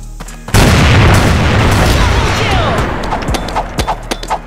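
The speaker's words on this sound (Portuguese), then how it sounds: "Bomba de fumaça!" A smoke bomb bursts in the CrossFire first-person shooter, a loud sudden whoosh that starts half a second in and settles into a steady hissing spread, with scattered sharp in-game clicks and effects as it fades.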